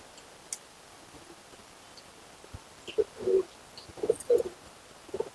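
A white-eyed female pigeon gives soft, low coos in a few short bursts toward the end, faint against quiet background ticks and clicks.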